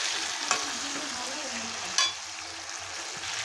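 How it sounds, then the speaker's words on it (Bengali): Chicken pieces being stirred into sizzling masala in a pan, a continuous frying hiss broken by two sharp scrapes of the spoon against the pan. "আমি চিকেনগুলো দিয়ে দিয়েছি, দিয়ে এখন আমি ভালো করে নেড়ে নেব।"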